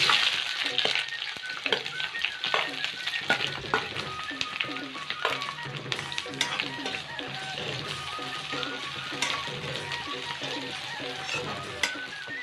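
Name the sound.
frying chopped onions with bay leaves for duck curry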